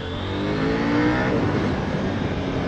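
A KTM Duke 890 motorcycle engine revs high while riding, a dense continuous roar that swells slightly near the middle and stays close and loud throughout, with wind rush mixed in.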